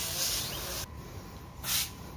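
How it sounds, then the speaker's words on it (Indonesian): Bursts of fine pesticide spray from a sprayer nozzle hissing onto a grapevine, a loud continuous close hiss that cuts out briefly and then resumes in a short strong burst, with no talking. "Langsung saja kita semprot."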